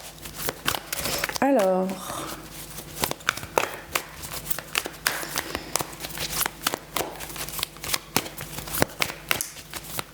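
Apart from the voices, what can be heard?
drawing and shuffling tarot cards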